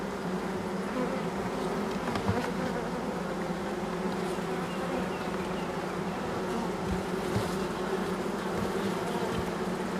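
A dense, steady hum of many honeybees buzzing around a hive in late April after swarming, close and continuous without pause.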